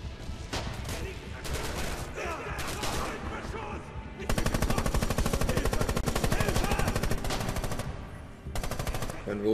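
Sustained machine-gun bursts and rapid gunfire from a Red Orchestra 2 Stalingrad battle, loud and dense throughout, growing heavier and more continuous midway, with a faint voice briefly underneath.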